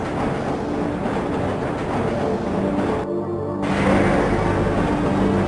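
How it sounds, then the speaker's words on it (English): Train rolling along the tracks in Half-Life: Episode 1, a steady loud rumble and clatter throughout with a short mechanical break midway, no voices. "This train is inbound from level 3 dormitories to Sector C test labs and control facilities."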